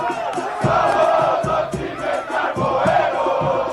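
A crowd of fans cheers and shouts during a car parade celebrating a club's promotion, a loud, dense, steady roar with rhythmic bursts of chanting throughout.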